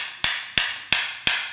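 A hammer strikes the metal strike cap of a Lisle 35100 mini pry bar four times at an even pace, each crisp ringing clank close and loud with a short fading ring.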